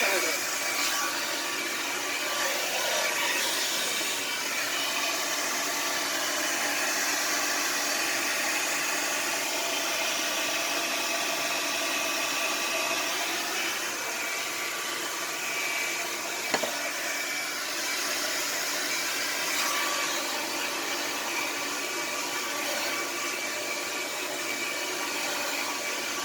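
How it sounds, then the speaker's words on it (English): A hair dryer blows steadily while hair is being dried, a constant close whooshing roar with a brief knock partway through and no speech. "you probably don't want to watch me blow dry all of my hair"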